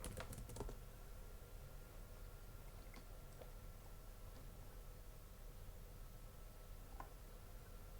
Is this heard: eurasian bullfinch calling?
no